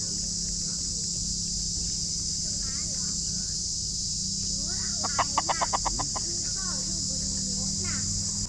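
A rooster crows out in the open at 6 a.m. in southern Thailand, its call rising over a steady background hum and chirping birds, with a brief burst of clucking.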